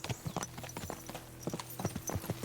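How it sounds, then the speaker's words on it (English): Several horses' hooves clip-clop on the ground in Kingdom Come Deliverance 2, a quiet, uneven patter of overlapping hoofbeats at a walking pace, heard alone. "What a lot of horses."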